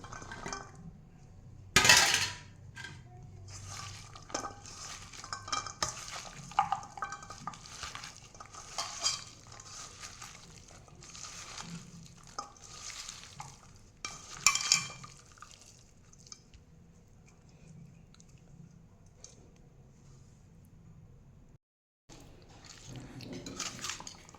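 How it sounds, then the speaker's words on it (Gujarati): Chopped vegetables for Surati undhiyu are stirred in a cooker, giving repeated close scraping and rustling strokes. A sharp clatter comes early, and the sound drops out briefly near the end. No one speaks. "હવે આમાં સમારેલ બધા શાકભાજી મિક્સ કરીશું."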